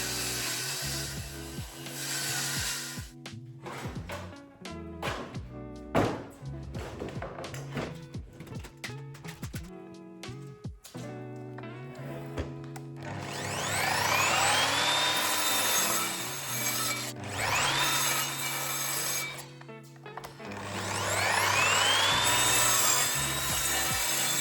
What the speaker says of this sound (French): Je commence par découper les panneaux de bois.